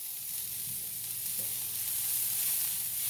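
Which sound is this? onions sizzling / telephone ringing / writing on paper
onions sizzling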